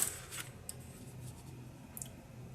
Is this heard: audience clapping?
no